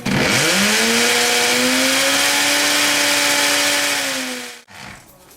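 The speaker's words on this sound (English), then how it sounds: "I'm using a hammer drill with a 3/16 masonry bit to drill into these mortar joints" A loud hammer drill with a 3/16 masonry bit spins up and runs steadily into mortar joints with a high grinding whine for several seconds, then winds down and stops.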